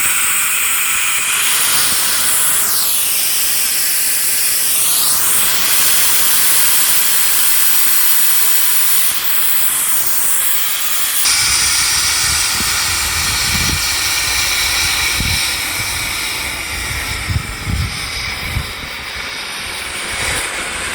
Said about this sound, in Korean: 확 열면은 갑자기 스팀이 확 올라가요.